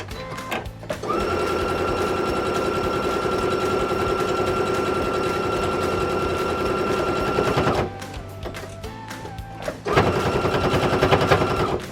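A sewing machine stitches steadily over double folds of fabric for an envelope cushion cover, its motor whirring in one long continuous run, then stopping briefly and starting again, loud and close.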